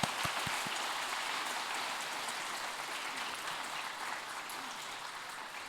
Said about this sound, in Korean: 하나님께 영광의 박수를 드릴까요?